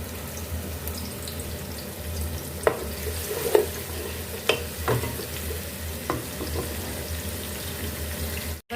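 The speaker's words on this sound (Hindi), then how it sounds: "इस तरह से हमने प्याज को चॉप कर लिया था। अब इसको हमने फ्राई कर लेना है।" Chopped onions fry in hot cooking oil for a bhindi chicken masala, giving a steady close sizzle with a few sharp clicks and scrapes of stirring.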